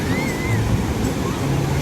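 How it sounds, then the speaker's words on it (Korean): Steady roar of ocean surf washing in on a Gold Coast beach, a continuous broadband rush with faint voices in the background. "파도가 우와"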